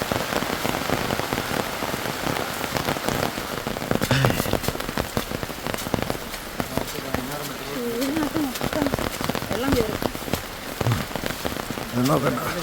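Monsoon downpour drums continuously on the forest around trekkers in Parambikulam Tiger Reserve, thick and close, with voices talking on and off beneath the rain.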